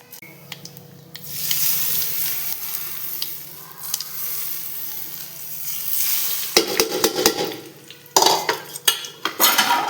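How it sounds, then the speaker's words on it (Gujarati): Mustard seeds, cumin and sesame crackle in hot oil for a dhokla tempering, a soft sizzle with scattered pops, followed by clattering utensil and pan knocks near the end. "તેલ મૂકી દીધું છે ચાલો એમાં રાઈ જીરું નાખીને મસ્ત આપણે ઢોકળા વઘારી નાખીએ"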